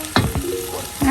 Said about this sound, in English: So let's mix everything.